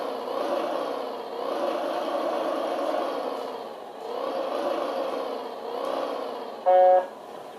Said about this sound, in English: Changes your engine sound.